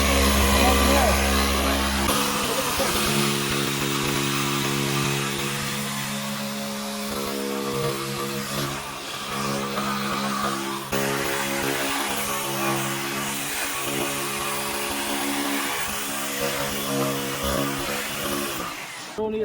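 A polishing machine runs on a car headlight during restoration, a loud continuous whine with a steady hum that shifts slightly in pitch as it works, while someone talks over it throughout.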